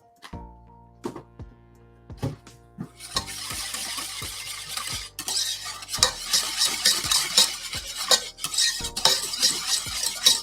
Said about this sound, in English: Stir in the flakes until moistened.